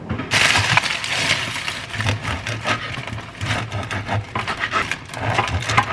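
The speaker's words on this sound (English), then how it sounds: "I just smashed all of the garlic butter together and this is what it looks like" Garlic butter is mashed together in a bowl with a utensil, producing a run of close scraping, squishing strokes in an uneven rhythm, each stroke a short gritty rub, with no talking.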